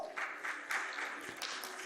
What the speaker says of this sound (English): Let's give them with him a round of applause.